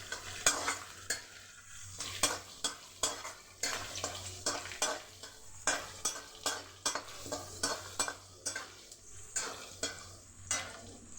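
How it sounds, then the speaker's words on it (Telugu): Thinly cut onion and curry leaves fry for an egg and carrot dish under a low sizzle, while a spatula stirs in regular scraping strokes about once a second throughout. "సన్నగా కట్ చేసిన ఆనియన్, కరివేపాకు, ఇవి కొద్దిగా ఫ్రై అవ్వనిద్దాం."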